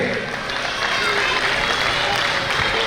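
An audience at a Meena community gathering in Kutch claps for children, producing a steady, dense wash of applause that builds slightly and holds for a few seconds, with voices mixed in.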